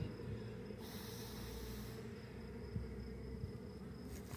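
Someone blows air onto a clump of honeybees on a hive frame during an inspection for eggs. Soft breathy gusts come close to the microphone over a steady low buzzing hum of the bees.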